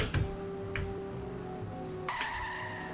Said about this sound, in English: I don't recognize the car noise though, the engine sounds kind of odd.